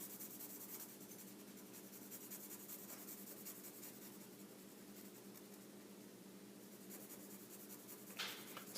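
Pencil shading wall thickness on a paper architectural floor plan, a faint, continuous scratchy rubbing of graphite that runs steadily throughout with one brief sharper scrape near the end, with no talking.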